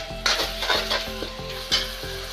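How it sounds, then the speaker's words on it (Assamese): Spices fry in hot oil for kabuli chana chaat: a steady sizzle broken by regular scraping stirs of a spoon against the pan, close and clear, with no talking. "মছলাখিনি ভালকৈ ভাজি ল'লে"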